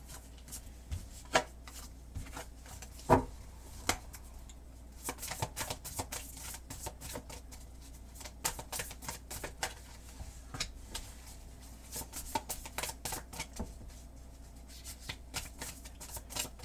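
Tarot cards are shuffled by hand in a quiet room, with soft, irregular riffling and flicking bursts and a few sharper slaps and taps as the cards slip, all close and faint and with no voice.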